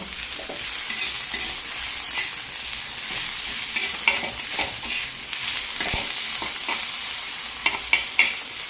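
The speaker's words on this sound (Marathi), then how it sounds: "त्याच्यामध्ये थोडंसं टॉमॅटो आता परतून घेऊ" Tomato is stirred into fried onion and brinjal in a hot pan, a steady oily sizzle with repeated scraping strokes and sharp spatula taps near the end, with no voices.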